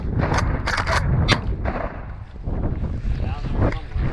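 Shotgun shots during an upland hunt for pheasants and chukars at a game farm, several sharp bangs in the first second and a half, then quieter rustling and movement with wind noise over the microphone.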